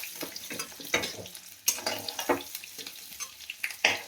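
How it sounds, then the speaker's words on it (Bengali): Cauliflower pieces fry in hot oil in a wok, a low sizzle broken by irregular scrapes and clinks as pieces are lifted out one by one, close and fairly quiet. "আমার ফুলকপিগুলো দেখুন ভাজা হয়ে গেছে এখানে কড়াই"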